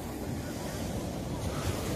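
Rough sea surf rolling onto a beach at a Sicilian holiday village in Licata on a windy day, a steady broadband roar of breaking waves with wind buffeting the microphone throughout.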